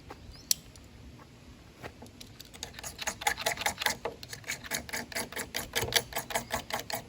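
Fatwood shavings are scraped off a bearing block: quiet, close scratching strokes that speed up into a rapid, even rhythm of dry rasps, with wind faintly behind.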